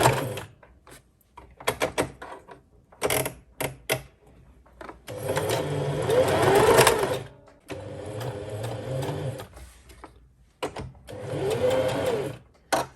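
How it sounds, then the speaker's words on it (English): A sewing machine stitches scrap fabric in short, rapid bursts, with several quick runs followed by longer sustained whirs and brief pauses between them, close and fairly loud. "Now we are going to stitch with 1/4 distance."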